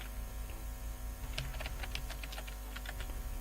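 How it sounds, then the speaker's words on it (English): Light, quick clicks of typing on a computer keyboard come in short irregular bursts, close and fairly quiet, with no talking. "let me just type"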